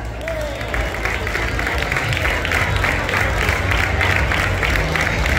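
A crowd applauds a music group at an outdoor fair in Córdoba, a steady, loud wash of clapping with some cheering over low background rumble, continuous throughout.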